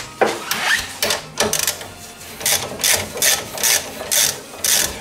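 A ratchet fitted with an extension works on brake bolts of a Peugeot 308, giving bursts of quick metallic clicking in short, uneven runs with pauses between them, close and fairly loud.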